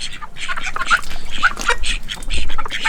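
Ducks quack in a muddy backyard pen beside a chicken coop, a busy overlapping chorus of calls close by with some chicken sounds mixed in, continuous throughout.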